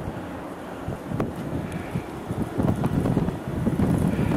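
A December 2010 blizzard sends wind gusting through blowing snow. The wind roars and buffets the microphone with a rough, rumbling rush that grows stronger toward the end.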